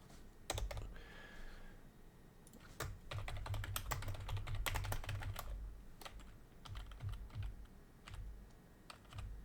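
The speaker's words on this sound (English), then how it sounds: "I'm typing too fast" Fast typing on a computer keyboard nearby, bursts of rapid clicking keystrokes with brief pauses between runs, quiet room, no talk.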